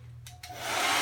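A hair dryer blows on a bob haircut being styled with a round brush, starting in a couple of short bursts and then settling into a steady, loud, close rush of air.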